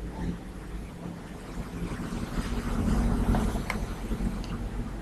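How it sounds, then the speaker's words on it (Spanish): Cars pass outside on a street, a low, swelling traffic wash that builds toward the middle and then eases, heard faintly behind a windy room hiss. "omitan todos los sonidos de los carros"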